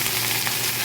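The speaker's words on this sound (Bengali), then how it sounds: "লাল শাকটা একটু ভাজা করব" Red amaranth greens sizzle in a pan of hot oil with garlic and onion, a steady, close, moderately loud hiss for under a second with no talking.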